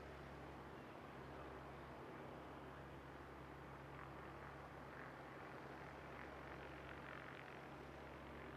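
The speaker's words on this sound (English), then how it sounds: "legitimate butter landing there by Jetstar" Jetstar airliner touching down, heard as a steady distant low rumble of jet engine noise with wind-like hiss throughout, no voices.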